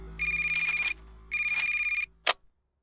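A telephone rings twice in bright electronic bursts with a pause between, followed by a brief click, clear and close.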